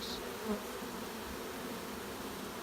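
A dense, steady honeybee swarm buzzes continuously, a low droning hum that fills the whole stretch without pause as the bees fan their wings hard and move into a box.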